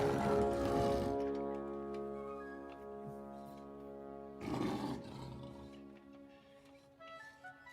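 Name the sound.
roar in the King Kong (1933) film, like the MGM lion roar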